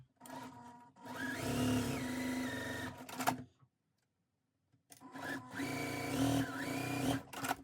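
Quarter-inch seams are sewn on a goose chase quilt block by a sewing machine, running in two strong bursts of steady whirring stitching separated by a short silent pause.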